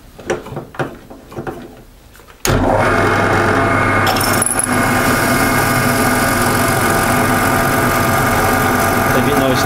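A power drill bores a hole into a handmade knife build, starting abruptly after a few seconds of quieter workshop noise and then running as a loud, steady mechanical whine close to the microphone.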